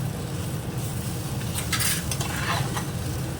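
Neem leaf powder being stirred into eggplant frying in a pan, a steady sizzle with scraping and clinking of a spoon against the pan, close and continuous.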